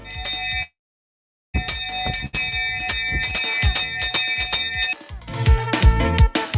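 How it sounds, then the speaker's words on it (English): An old-fashioned school bell rings loudly and close, with bright metallic clangs in rapid repeated bursts, a brief silent gap, then sustained ringing with no talking. "Y'all remember that kind of school bell, eh? The one from back in the day"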